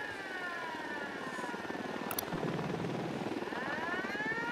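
A surveillance drone hovers in Tom Clancy's Ghost Recon Wildlands with a steady whirring rotor drone and a faint, rising and falling whine, moderately quiet and without any voices.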